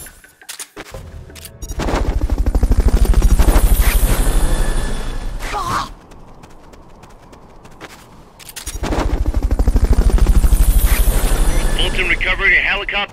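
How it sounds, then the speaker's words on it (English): Fulton recovery helicopter in Metal Gear Solid: Peace Walker, heard as two loud, sustained bursts of rotor roar and clatter separated by a quieter lull, filling the whole game scene. "Fulton recovery helicopter is complete."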